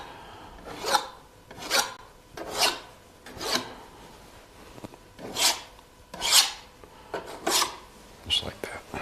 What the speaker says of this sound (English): This is just taking it and scraping it across.